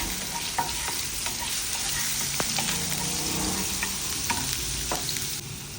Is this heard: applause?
no